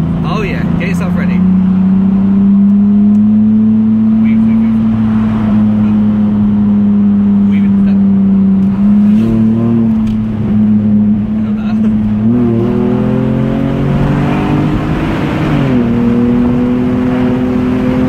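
A BMW Z4 E85 3.0i engine with the rear muffler removed drones and rises in pitch as it revs in a tunnel, with a loud exhaust tone and a few surges, while people talk over it.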